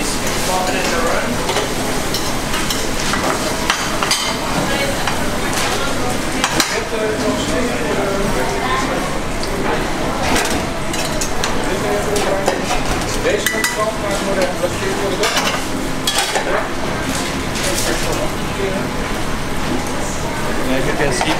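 Continuous sizzling and crackling of fish frying in butter in a hot pan, with occasional stirring clatter, steady and close throughout.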